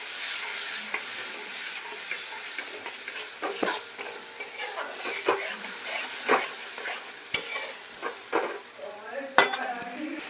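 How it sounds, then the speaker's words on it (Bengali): Tomato and grated ginger fry in oil over a very low gas flame, giving a steady close sizzle. A utensil stirs and clinks against the pan now and then, and a few sharper knocks come near the end. "টমেটো আর আদা ঘষাটা দিয়ে দিচ্ছি, একটু কষিয়ে নেব তেলের মধ্যে"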